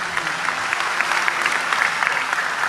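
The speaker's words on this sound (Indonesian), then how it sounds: "Tepuk tangan untuk beliau, enggak apa-apa." Steady, dense audience applause at an Islamic study gathering, clapping filling the whole stretch at even volume with no voice over it.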